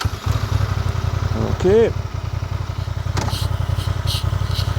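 A 750 motorcycle engine idles with a fast, even chugging pulse, loud and close throughout; a short rising whine and a brief voice break in partway.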